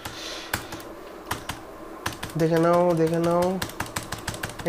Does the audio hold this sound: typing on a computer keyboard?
yes